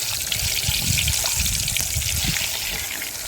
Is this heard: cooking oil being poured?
yes